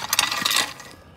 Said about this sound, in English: That is the sound of what it sounds like when you're raking rocks.